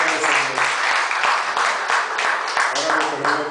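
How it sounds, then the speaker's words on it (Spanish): A church congregation applauds during a sermon, a dense, continuous patter of clapping with voices mixed in throughout. "Gloria a Dios, un aplauso"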